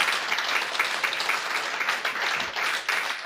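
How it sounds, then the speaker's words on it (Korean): A church congregation breaks into steady, dense applause at a pastor's seminar in a Korean church, the clapping filling the room evenly throughout. "자, 박수로 주님께 영광 돌립니다."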